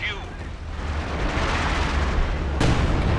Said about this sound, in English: There goes the Katyusha again.